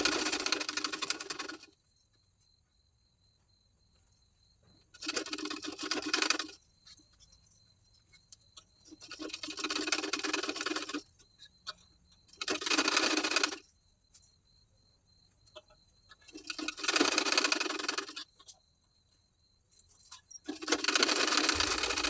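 A sewing machine stitches piping onto a garment neckline in several bursts of rapid mechanical whirring, each lasting a couple of seconds and separated by pauses, close by and moderately quiet.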